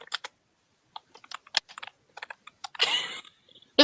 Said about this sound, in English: Give me some typing ASMR